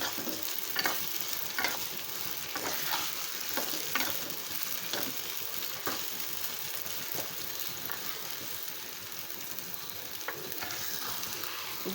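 Mango chutney sizzles and fries in plenty of oil while a spoon stirs it with repeated scraping strokes. The sound is close and fairly quiet, with a steady crackle under the stirring and no voices.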